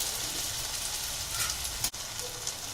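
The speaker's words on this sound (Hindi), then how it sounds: "इसमें हरा मटर ऐड कर रहे हैं" Green peas dropped into a hot pan of oil for a yakhni matar paneer pulao, giving a loud, continuous frying sizzle with a brief sharp break partway through.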